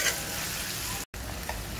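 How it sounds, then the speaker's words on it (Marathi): Finely chopped onion frying with cumin in a pan for Malvani chicken, a steady close sizzle with stirring scrapes, broken by a brief cut to silence midway. "ह्याच्यामध्ये जो बारीक चिरलेला कांदा आहे आपला, तो घालायचा आहे आणि तो गोल्डन ब्राऊन होईपर्यंत भाजून घ्यायचा आहे चांगला"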